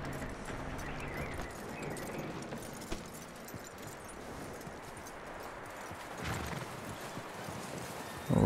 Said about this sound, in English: We are leading the horse out.